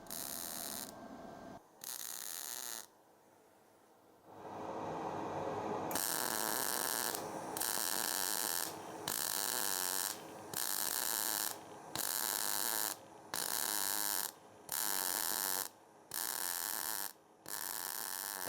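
Tack welding on thin galvanized steel tube for a pedal car build, with a strong buzzing arc that starts and stops in a series of short regular bursts separated by brief pauses.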